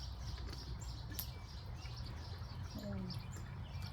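Cardinals chirping outdoors in a garden, a few faint, brief tweets scattered over a low background murmur.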